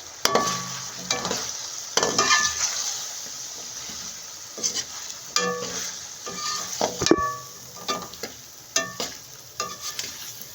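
A spoon stirs a packet of Sindhi biryani masala through a pot, making irregular wet scrapes and clinks over a low sizzle, with sharp clatters every second or so close by and no talk.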